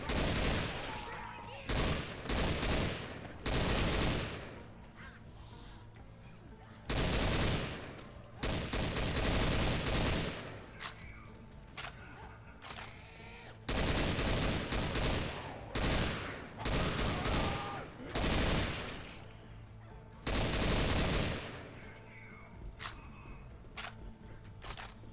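Bursts of rapid gunfire from Left 4 Dead 2 fill the scene, loud repeated volleys of automatic shooting separated by brief pauses, with sustained shooting dominating throughout.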